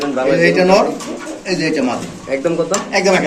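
Several Nun pigeons at a pigeon market coo in soft, throaty repeated calls close by, overlapping one another.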